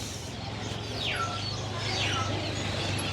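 Birds chirping and calling at a busy market where birds, rabbits and cats are sold, two clear descending whistles and soft cooing over a steady crowd hum.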